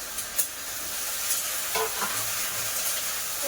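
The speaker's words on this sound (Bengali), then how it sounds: "ফুলকপি আলু ভাজাটা আমি বসাই দিলাম" Continuous sizzle of cauliflower and potatoes frying in oil, with a few light clinks of stirring utensils; no talking.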